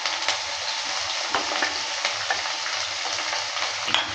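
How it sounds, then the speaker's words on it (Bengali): Onion fries in a kadai with a dense, steady sizzle as it is stirred, with scattered scrapes and clinks of the spatula throughout, close up. "পেঁয়াজটা দেওয়ার পর ভালো করে নেড়েচেড়ে নিচ্ছি।"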